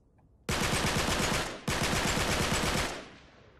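Sustained full-auto AK rifle fire in Uncharted 3 (Drake's Deception), two loud continuous bursts of rapid shots, the second following a brief break after the first, with no talk over it.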